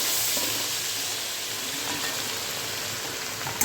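Tomatoes dropped into a hot pan for chicken biryani give a loud, steady hiss of frying oil that holds constant throughout, with a brief clatter right at the end.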